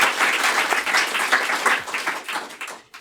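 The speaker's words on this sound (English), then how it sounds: "please give him a round of applause" Seminar audience applauding a speaker at SOAS, a dense steady wash of many hands clapping that runs for about three seconds before cutting off abruptly.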